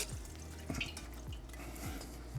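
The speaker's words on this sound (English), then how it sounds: "The first step that I'm gonna do is drain it all out." Liquid from a jar of fresh pepper hot sauce with onion, garlic and peppers draining through a colander into a bowl, soft trickling and scattered drips, faint and close with no talking.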